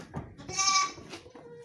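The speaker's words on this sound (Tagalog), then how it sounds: "Mga kids na kambing." A young goat kid lets out one clear, close bleat that rises and falls, with softer animal shuffling and faint bleats around it.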